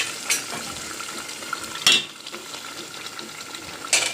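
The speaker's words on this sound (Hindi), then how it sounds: "अब हम इसको अच्छी तरह भून लेते हैं।" Spinach and boiled chana dal being sautéed in a pan for dal palak, with a continuous close sizzle broken by a few sharp scraping stirs of a utensil, no talking.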